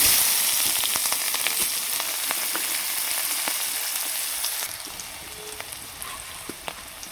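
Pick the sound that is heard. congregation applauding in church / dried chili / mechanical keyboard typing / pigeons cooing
dried chili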